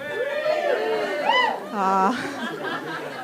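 A crowd murmurs and chatters together, overlapping voices with a few chuckles mixed in, fairly close and moderately loud.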